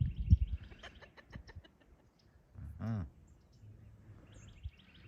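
Backyard chickens and a strutting rooster cluck in short repeated bursts, followed by one louder drawn-out call from the rooster, close and clear over a quiet outdoor background.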